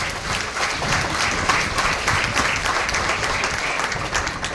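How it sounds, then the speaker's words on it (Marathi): Audience applause at a foundation event in Solapur, a dense steady clapping from a large crowd that fills the whole span at even loudness, with no voices over it. "एकदा जोरदार टाळ्या वाजवूया"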